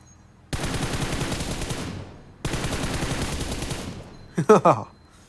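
Two long, loud bursts of automatic fire come from the PUBG video game played on an iPad Pro M2, with a brief pause between them. A short spoken exclamation follows at the end.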